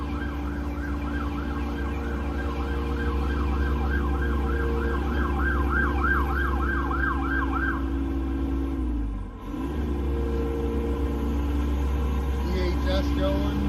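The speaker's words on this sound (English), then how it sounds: "Sirens going like crazy." Emergency vehicle sirens wail with a rising and falling tone over steady traffic noise, then fade as a vehicle passes close by.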